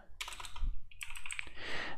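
Fast typing on a computer keyboard while writing a script, dense close key clicks running in bursts for two seconds with no voice.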